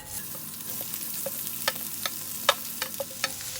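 Chopped onions fry in hot coconut oil with a gentle, steady sizzle, punctuated by sharp, scattered spatula clicks and scrapes against the pan, with no speech.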